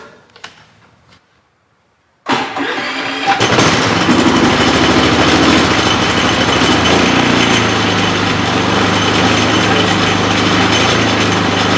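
A Harbor Freight Predator 3500 inverter generator starts up after a quiet moment and settles into a steady, loud running drone that continues alone.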